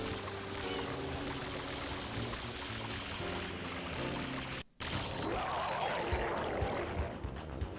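Steady rushing water spray in the Super Mario Sunshine video game, continuous and loud, with a brief cut to silence midway before the hiss resumes.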